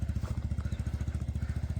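A motorcycle engine runs steadily close by, its rapid, even pulsing chug sustained throughout with no talk over it; the bike is being ridden by a father learning to ride.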